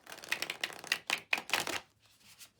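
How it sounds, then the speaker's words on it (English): Cards are shuffled for a tarot-style reading in a quick run of about six crisp riffling bursts, close and fairly loud, trailing into a faint rustle. "So let's do two shuffles."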